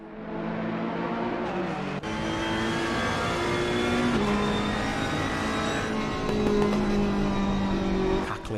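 A Ferrari race car in a racing video game at Mount Panorama drones steadily at high revs, the engine tone rising and shifting through gears with a brief dip, near and continuous, with no talk.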